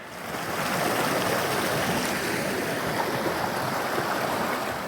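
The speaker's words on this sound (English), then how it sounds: "I'm gonna have to get down in the water again to get around that next corner." Creek water in a Utah canyon at Boulder Creek rushes and churns around someone wading through it, a loud, steady broadband wash filling the whole stretch without talk.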